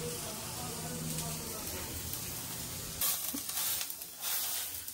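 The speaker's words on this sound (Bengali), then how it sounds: "মোটামুটি এখানে পেঁয়াজগুলো সেকে এসছে" Onions sauté in a hot pan, a steady close sizzle and hiss with brief stirring scrapes, while a person talks over it.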